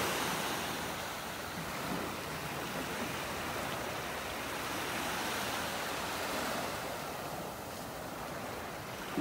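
Ocean waves washing onto a Florida beach in North Naples on a calm morning, a continuous broad hiss of surf rising and falling gently, steady and fairly close, with no voices.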